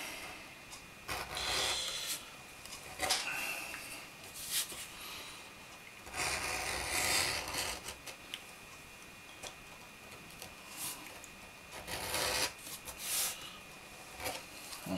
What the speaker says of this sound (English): When you do your edge beveling, you want to do both sides as well